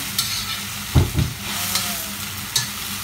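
Garlic frying in cooking oil for kangkong with shrimp paste, stirred with a utensil: a continuous soft sizzle with a few clear scraping knocks of the spoon against the pan, close and alone.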